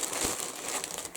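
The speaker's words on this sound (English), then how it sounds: "there will be some crinkling" Plastic packaging around a haul of cotton and ice yarn crinkles steadily up close, a continuous crackly rustle with no talking.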